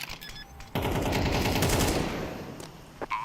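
Gunfire in a Counter-Strike 2 esports match: a sustained automatic burst of rapid, loud shots fills most of the moment, tapering off with a couple of sharp isolated cracks at the end.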